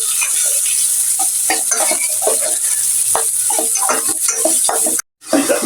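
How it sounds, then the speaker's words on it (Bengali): Chopped onions and five or six green chillies fry in oil for a Bengali hilsa fish and taro dish, with a steady close sizzle broken by stirring scrapes and clinks of a spoon against the pan, cutting off briefly near the end. "ভালো করে পেঁয়াজটা আমি ভেজে নেব।"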